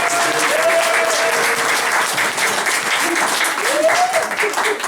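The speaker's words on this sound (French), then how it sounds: "Je vous demande un tonnerre d'applaudissements" An audience gives loud, sustained applause at a live show, a full continuous roar of clapping with a couple of voices calling out underneath.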